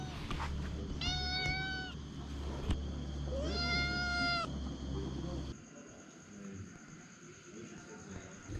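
A cat meows twice, clear and close, over a low background hum at night in a remote Laotian village; a quieter stretch follows.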